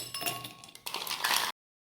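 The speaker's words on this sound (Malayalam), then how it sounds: "ഗ്ലാസ്സിലേക്ക് നമുക്ക് ഐസ് ക്യൂബ്സ് ഇട്ട് കൊടുക്കാം" Ice cubes drop into a glass for a ginger, pineapple and grape punch, giving a few quick, close clinks and rattles before it falls silent.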